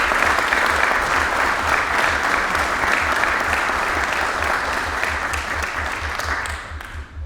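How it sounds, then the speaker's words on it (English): Sustained audience applause fills a naming rights ceremony for a sports performance center, steady and dense throughout before tapering slightly at the end, with a low rhythmic thump underneath. "So how about a round of applause for their families?"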